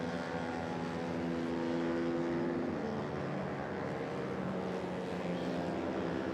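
Motorcycle racing engines in an endurance race for small kapcai-class bikes drone steadily past a trackside commentary box, a dense, continuous roar with no clear breaks across the whole stretch.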